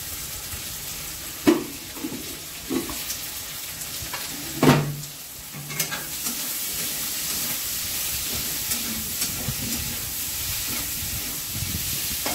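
Potatoes fry with onion in a pan, giving a steady broad sizzle with a few louder clatters and stirring knocks early on.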